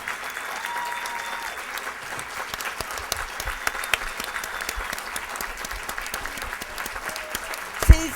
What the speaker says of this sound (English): let's all give a really, really special applause